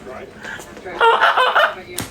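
A voice squawks and clucks in short bursts, imitating a chicken, followed by a sharp clap at the end.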